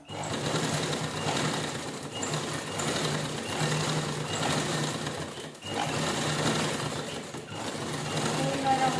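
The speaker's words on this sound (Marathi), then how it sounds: "व्यवस्थित स्टिच करून घ्यायचं एकसारखं" Sewing machine stitching denim jeans fabric, a steady, close mechanical whirring drone that runs almost continuously, with a couple of brief pauses before the motor starts again.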